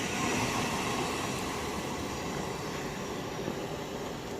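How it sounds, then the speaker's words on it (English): Thameslink Class 700 electric train 700-027 running through Elstree & Borehamwood station on the Midland Main Line, a steady broadband rumble and rush holding loud and even throughout, with no voices. "700-027 on 2 Victor 79, the 1508 Thameslink service from Luton to Sutton via Wimbledon"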